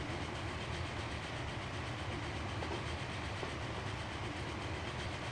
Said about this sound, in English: Oh, you are such a beautiful train.